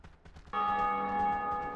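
A church bell in Dark Souls Remastered tolls once after a few faint footstep-like thuds, the strike ringing out with a long, sustained metallic hum at moderate loudness.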